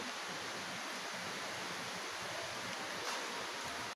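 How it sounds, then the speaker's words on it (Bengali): Heavy rain falls in a steady, dense wash of noise that holds unbroken and even throughout, faint and with no voices. "দেখো অনেক জোরে বৃষ্টি"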